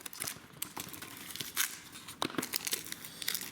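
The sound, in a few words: tearing tape off a fireworks package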